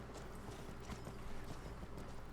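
Horse hooves clip-clop steadily in modded Skyrim, a faint, rhythmic clatter of repeated footfalls under a low background bed.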